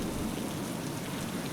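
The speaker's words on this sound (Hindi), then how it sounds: "अचानक से ये जोरदार बारिश भी शुरू हो गई है" Heavy cartoon rain hisses in a dense, steady wash, alone and fairly faint with no voices over it.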